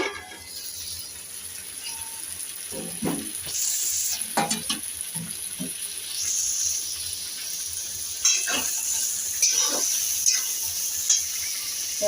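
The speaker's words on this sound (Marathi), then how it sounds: "गवार आपल्याला वाफेवरच शिजवून घ्यायची आहे" Guar (cluster beans) cooking in a pan, with a steady sizzle and hiss under repeated scraping stirs that come in short, irregular strokes close by.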